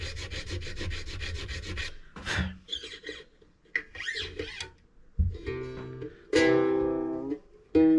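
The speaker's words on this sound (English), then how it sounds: "I'm angling the nut file just a little bit here." A nut file rasps back and forth in the nut slot of a new nut for a distressed Gibson Master Model F5 mandolin, giving close, repeated rubbing strokes in short bursts, with gaps and a few handling knocks between.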